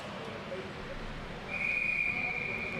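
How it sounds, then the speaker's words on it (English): A referee's whistle starting a track cycling scratch race at a velodrome, one sustained shrill blast that enters midway and holds over a murmuring crowd background. "So the whistle blows, 20 laps to go."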